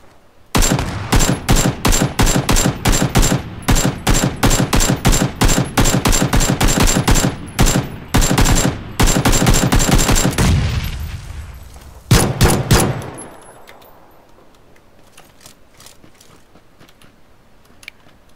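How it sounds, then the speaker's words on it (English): Sustained automatic gunfire in PUBG as a player shoots at opponents through walls, a long run of loud, rapid close-range shots, then a short final burst before it trails off to near silence. "I'm currently shooting players through walls"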